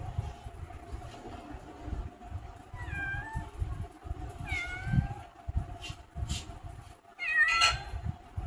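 Several cats meow in short rising calls while being fed, three bursts spaced a couple of seconds apart over a constant low rumble and background hum; no one speaks.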